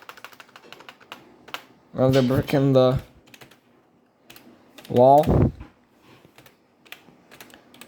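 Rapid clicking keystrokes come from an old computer keyboard with a worn space bar, running steadily throughout, while a person speaks briefly twice over the typing.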